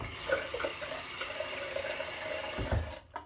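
Water from a tap runs steadily into a shaving bowl in a bathroom, a close, continuous splashing stream that cuts off near the end.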